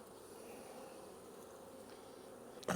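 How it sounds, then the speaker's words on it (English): Honey bees in a busy hive give off a faint, steady, even drone that holds without a break, with a brief soft knock right at the end. "So you've got a pretty good population of bees up here."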